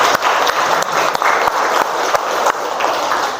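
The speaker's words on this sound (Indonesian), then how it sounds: "Kita beri aplaus untuk semangat kita hari ini." A classroom of students applauding together, dense, loud, continuous clapping with a few sharper individual claps standing out, sustained for several seconds without a break.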